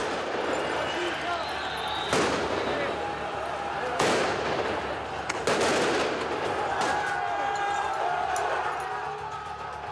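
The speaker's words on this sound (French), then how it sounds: "Ils ciblent les gendarmes et les policiers avec des tirs de mortier d'artifice." Firework mortars are fired at gendarmes and police during a pension-reform protest, with several sharp loud bangs spaced a couple of seconds apart over a continuous crowd roar, and voices in the background.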